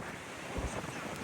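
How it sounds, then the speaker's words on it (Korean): Strong ocean waves surge on the Jeju coast amid fierce gale winds, a loud roaring wash with a heavy thump of surf midway and buffeting wind over the microphone. "이 파도가 너무 세게 치고 있고"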